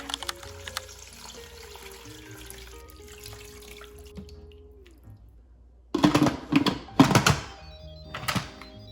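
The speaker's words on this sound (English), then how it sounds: "All of this is going into the Instant Pot. I'm adding 6 cups of water." Water poured into an Instant Pot for stock, six cups added in bursts of splashing and gurgling, close and fairly loud, following a quieter stretch of faint kitchen background.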